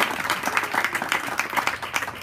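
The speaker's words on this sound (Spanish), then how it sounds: "denle un fuerte aplauso al Señor" A church congregation at an Ecuadorian Tuesday service breaks into loud applause, with rhythmic, pulsing group clapping close and full throughout.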